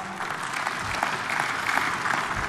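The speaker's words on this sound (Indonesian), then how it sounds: "Tepuk tangan." Audience applause at a 2024 Central Java gubernatorial debate, a continuous even wash of many hands clapping that holds steady for a couple of seconds.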